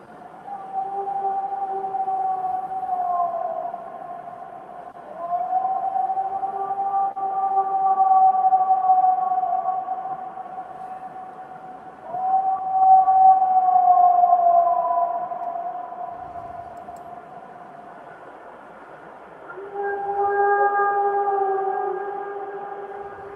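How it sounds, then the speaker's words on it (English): The alleged Bigfoot recording known as the Rainier Howl: four long, distant, wavering howls in a row from one source, each rising and sliding in pitch, with short quiet gaps between them. "That's the Rainier Howl. And there's a series of 4 vocalizations by the same subject."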